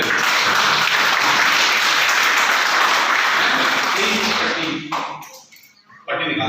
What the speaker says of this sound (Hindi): तो जोरदार इस बेटी के लिए तालियां हो जाए